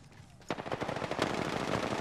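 Automatic weapon fire erupts in an Apex Legends match, with rapid, dense bursts of shots starting abruptly and continuing steadily and loudly to the end.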